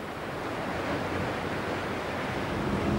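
Calm sea waves wash continuously under a light, gentle breeze, a soft steady rumble of surf and airy noise with no voices, heard during a 1999 women's water-ski world championship.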